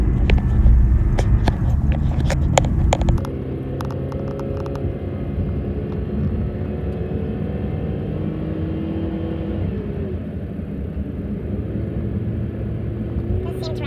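A 2008 PT Cruiser with a newly replaced ignition coil pack is driven around the block. Its engine rumbles and whirs steadily from inside the cabin, with a short burst of louder knocking and clatter at the start, and a voice is heard faintly.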